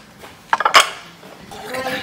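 Pasta bowls and cutlery clatter in a home kitchen, a few quick close clinks and knocks bunched together, followed by faint rustling.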